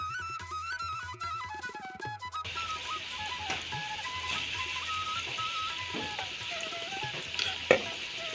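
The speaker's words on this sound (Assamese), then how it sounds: "এফালে তেলখিনি গৰম হোৱাৰ পাছতে পকৰিখিনি বনাই লৈছোঁ এটা এটা কৰি পিনি" Pakora fritters dropped one by one into hot oil and frying, a steady soft sizzle that fills the background, with faint music playing alongside and a brief clatter near the end.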